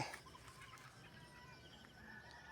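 A chicken clucks faintly in a quiet outdoor setting, a few short, soft calls spread across a couple of seconds, with a brief louder burst at the start.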